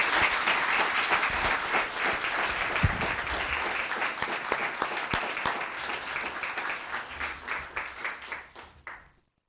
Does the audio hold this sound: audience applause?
yes